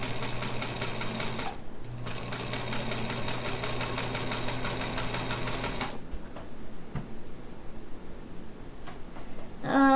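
A Featherweight sewing machine stitching at a steady, fast mechanical whir with close, even clatter; it pauses briefly near the start, runs again, then stops, leaving quieter handling noises.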